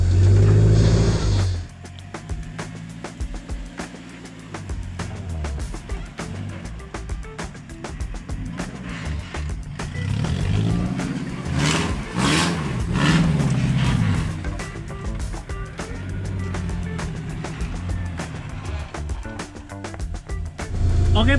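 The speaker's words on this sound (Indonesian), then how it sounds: "begitu kita mulai dapat RPM tinggi, mulai berasa ini kita pakai mesin Honda" A Suzuki Jimny fitted with a Honda engine revs hard to high RPM, a loud, close, sustained roar that climbs and surges in waves before easing off, with no talk over it.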